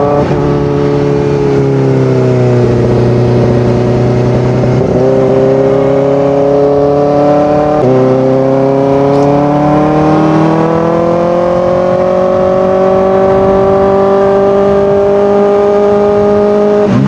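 Kawasaki Ninja ZX-4RR motorcycle riding on a hill road in Bulacan, its engine holding a steady, loud, near drone whose pitch rises and falls as the rider shifts and accelerates, with brief dips between gears.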